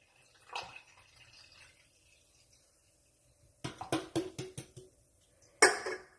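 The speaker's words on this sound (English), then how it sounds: "I'm gonna pour my soda all into my cup." Soda poured into a cup at home, a quiet stretch followed by a quick series of short fizzy splashing bursts and one final louder gush of liquid, fairly close and with no talking.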